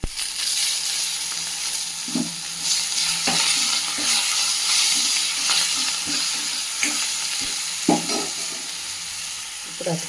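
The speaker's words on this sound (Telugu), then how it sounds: "లైట్గా సిమ్ మీద పెట్టుకొని ఇలా ఫ్రై చేసుకోవాలి" Poha upma of flattened rice fries in a pan over a low flame, with a continuous sizzle and repeated scraping stirs of a spoon, close and fairly loud, with no voices.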